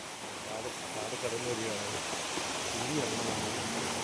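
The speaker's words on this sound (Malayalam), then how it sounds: "വെള്ളം കുറവാണ് എന്നാലും അടിപൊളിയായിട്ട് ഒഴുക്കുണ്ട്" A forest stream running low but still flowing briskly, a steady broadband rush close by, with voices talking over it.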